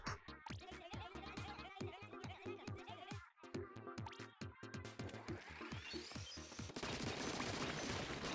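Rapid-fire Splatling weapon in Splatoon 2 shooting in quick repeated bursts over game music and effects, with a brief pause near the middle and denser noise toward the end.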